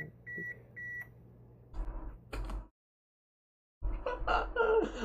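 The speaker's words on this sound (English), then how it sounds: "I got scared by the beep of the oven." Three short, high electronic beeps from an oven timer sound evenly spaced and fairly quiet, followed by clattering and rustling.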